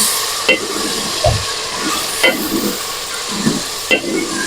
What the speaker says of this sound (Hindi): अब ब्राउन हो चुके हैं तो मैं इसमें टमाटर घेरने वाला हूँ, यानी कि डालने वाला हूँ।